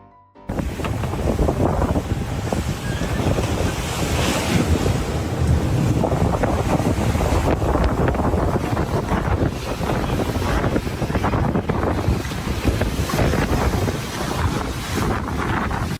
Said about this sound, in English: Just look at this little boat fighting against massive waves.